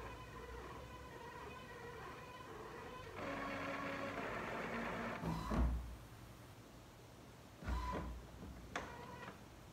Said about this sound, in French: mon imprimante qui date des années 40 va bien vouloir